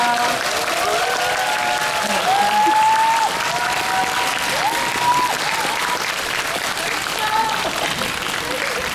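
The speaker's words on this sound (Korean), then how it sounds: "여러분 뜨거운 박수 부탁드리겠습니다." Audience applause as an actor walks onto the stage at a film screening and talk event, a thick wash of steady clapping with voices calling and chattering over it throughout.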